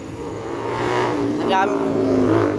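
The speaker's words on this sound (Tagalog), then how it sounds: "Sobrang traffic talaga oh" Heavy road traffic near Masinag gives a steady, loud drone of engines and rumbling vehicles, with someone talking over it.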